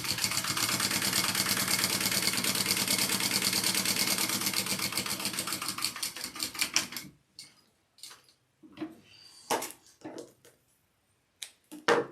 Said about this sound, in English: Go ahead and baste the edge closed.